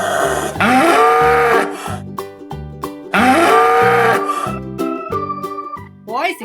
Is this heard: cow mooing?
yes